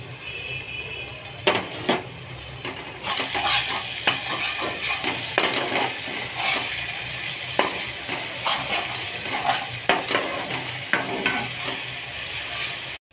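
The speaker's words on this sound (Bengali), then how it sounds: "এবার আদা রসুন আর কাঁচা লঙ্কার যে পেস্টটা বানিয়ে রেখেছিলাম এবার এতে দিয়ে দিচ্ছি।" Ginger, garlic and green chili paste fries with onion and tomato in a pan. A continuous close sizzle carries repeated sharp scrapes and clinks from stirring against the pan.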